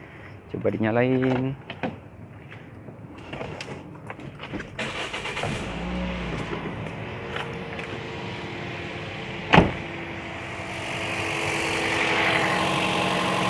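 A former-taxi Toyota Vios Limo engine cranks and catches, then settles into a steady idle, with a sharp knock partway through and a voice speaking early on.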